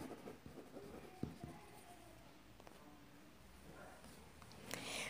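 Chalk or marker strokes on a board during a lecture on unit vectors, a quiet scratching and tapping with a few sharp knocks, mostly alone with faint room noise.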